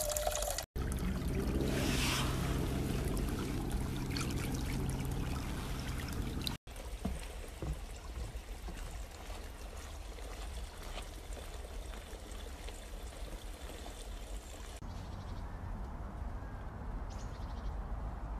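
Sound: small spring trickling water in Troparyovo

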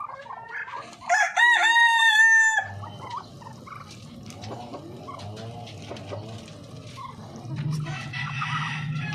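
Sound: rooster crowing and chickens clucking

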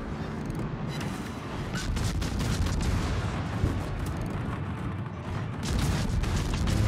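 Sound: naval gunfire in a warship video game

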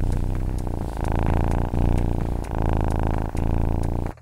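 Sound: cat purring

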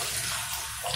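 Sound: water running from water-saving kitchen tap nozzle

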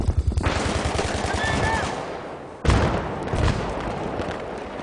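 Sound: grenade explosions and gunfire in video game Battlefield 3

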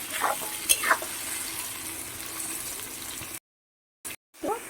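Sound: vegetables frying in a pan

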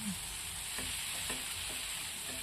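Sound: stirring fried potatoes in a pan for aloo dum

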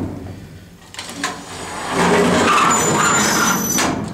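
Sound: vintage Westinghouse elevator door screeching

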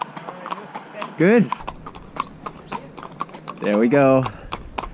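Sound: horse hooves clip-clopping

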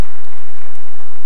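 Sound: applause

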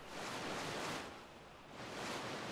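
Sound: water splash from a manta ray in the video game ARK: Survival Evolved

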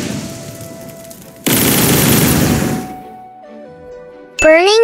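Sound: fire bullets attack from Roblox video game Blox Fruits

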